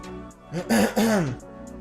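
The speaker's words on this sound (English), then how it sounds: "I still have to cough" A short throaty cough or throat-clearing burst from a nearby voice, rising and falling over about a second, with quiet before and after.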